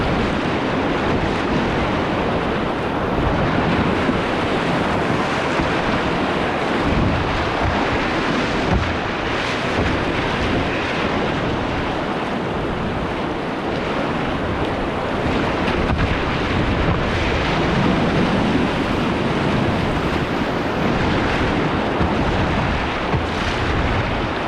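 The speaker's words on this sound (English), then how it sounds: "So we just ran a bunch of rapids." Whitewater rapids rushing around a solo canoe on a northern river, a steady loud broadband roar of churning water and wind buffeting close to the microphone, continuous without pause.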